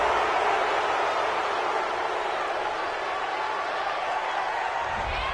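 A home crowd cheers a call at an American football game in a broad, steady roar that stays constant and fills the stadium without breaks.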